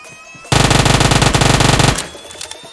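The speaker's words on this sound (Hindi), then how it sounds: "सामने से फायर भी होता है।" Enemy automatic gunfire in a shooting video game, a loud rapid burst of shots lasting about a second and a half, then cutting off abruptly into quiet game ambience.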